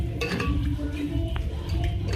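Chopped coriander being stirred into sheri keema in a pan, with continuous scraping and light clinks of a utensil against the metal pan over a steady sizzle.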